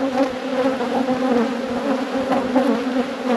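Honeybees drone in a dense, steady buzz around an opened hive during a frame inspection, close and loud throughout with no one speaking.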